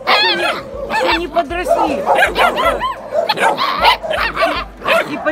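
Puppies being raised on bottle feeding yip, whimper and squeal in rapid, overlapping high cries, loud and close, while someone talks over them.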